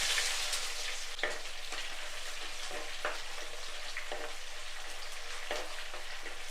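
Small shallots sizzling in hot coconut oil with popped mustard and fenugreek seeds for a Kerala fish curry: a steady, close, bright frying hiss with occasional soft spatula scrapes and pops, no voices.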